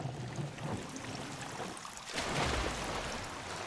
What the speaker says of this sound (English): When you splash down in the water, there's nothing really in there